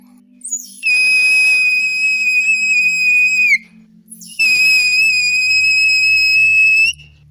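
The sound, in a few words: loud homemade survival whistle blown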